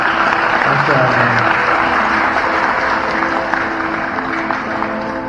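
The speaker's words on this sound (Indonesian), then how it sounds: "tepuk tangan untuk Kang Fajar." An audience applauds a speaker at the Refleksi Gen Salahuddin Al-Ayyubi 2024 gathering, with loud, dense clapping that holds steady for several seconds and tapers slightly toward the end.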